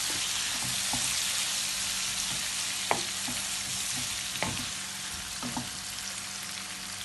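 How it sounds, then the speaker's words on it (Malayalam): Chicken pieces stirred through masala in a pan, with a steady frying hiss throughout and a few sharp spoon scrapes against the pan at intervals. "ഈ ചിക്കൻ ഇട്ട് കൊടുക്കാം ഇട്ടിട്ട് നന്നായിട്ട് ഒന്ന് ആ മസാലയിൽ ഒന്ന് ഇളക്കിയെടുക്കാം"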